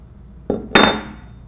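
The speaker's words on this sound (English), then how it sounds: "You'll need a pipe wrench to grab hold of the cage and a custom Kimray seat removal tool" Two sharp metallic clinks, a lighter tap then a louder ringing strike, as a custom Kimray seat removal tool meets the cage of a high pressure control valve, close and alone.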